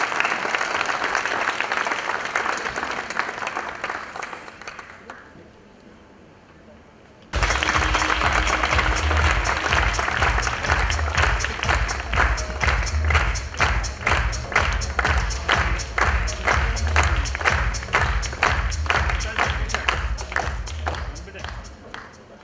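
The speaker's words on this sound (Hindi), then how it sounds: "एक बार जोरदार तालियां हो जाए हमारी जूरी के लिए।" An audience at a women achievers award ceremony applauds for the jury: a broad wash of clapping fades, then a loud, rhythmic bout of close, heavy claps with thumps runs for about fifteen seconds.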